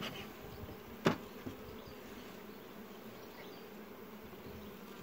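A steady, faint drone of honeybees buzzing around beehives at an apiary, with one brief sharp knock early on over the continuous hum.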